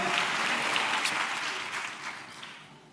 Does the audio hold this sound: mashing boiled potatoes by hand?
no